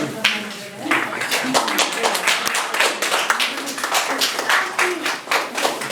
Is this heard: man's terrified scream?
no